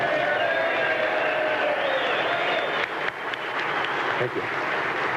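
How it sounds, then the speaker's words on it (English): A standing audience of publicans in Hawaii applauds loudly and steadily, with cheers and shouts running under the clapping, and a voice speaks briefly near the end. "give him a standing applause with bells and whistles"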